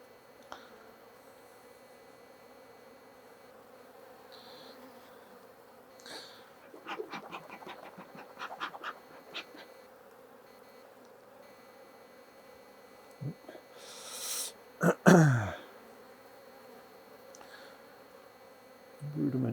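Honey bees hum steadily around an open hive during an inspection, a soft, constant drone close by, with scattered handling knocks and rustles and a louder bump near the end.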